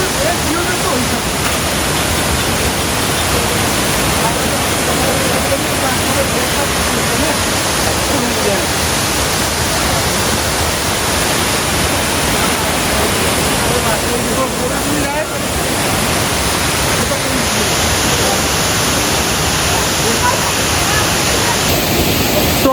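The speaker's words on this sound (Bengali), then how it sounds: "জাস্ট জলের শব্দটা শোনো তোমরা এবার।" Kempty Falls in Mussoorie roars as water pours down, a loud, unbroken rushing wash that fills the whole scene without pause.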